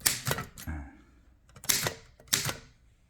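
Underwood No. 5 manual typewriter, with three sharp mechanical key clacks spaced about a second apart and metallic rattle after each, close and clear with no talk.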